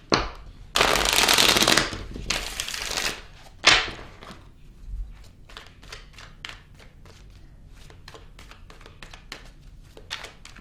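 Tarot cards are shuffled up close: two loud riffles of fluttering cards, then a sharp slap, followed by a run of softer taps and flicks as the deck is handled and laid out.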